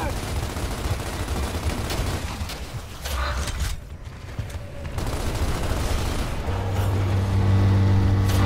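Rapid gunfire and shotgun blasts from a 3v3 multiplayer shooter match on Tyro Station form a loud, dense, continuous barrage with a rising mechanical rumble near the end.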